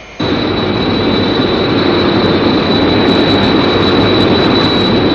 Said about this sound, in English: Captain Scarlet and Captain Blue have regained control of the aircraft